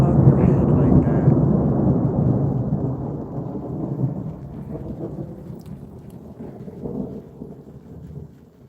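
Loud thunder from a monsoon storm directly overhead, a long deep rumble that rolls on for several seconds and slowly fades, with rain falling steadily underneath.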